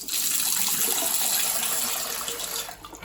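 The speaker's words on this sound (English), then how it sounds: "The water pressure on these taps is incredible" Bath taps run at high pressure in a house, a loud steady rush of water splashing continuously for about three seconds before easing slightly at the end.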